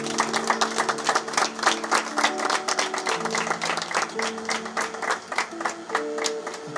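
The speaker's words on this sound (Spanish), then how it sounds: "Denle un aplauso al Señor." A congregation claps steadily and densely at a church service, sustained applause filling the space throughout with no talk over it.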